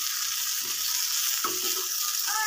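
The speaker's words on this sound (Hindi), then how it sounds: "फ्राई करने के बाद टमाटर और हरी मिर्च डालेंगे और इस तरह से इसको भून लेंगे।" Tomatoes and green chili frying in oil in an iron wok, a steady bright sizzle running throughout with a couple of soft stirring scrapes, no voices.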